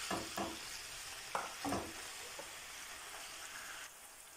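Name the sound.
chicken fillet strips frying in sunflower oil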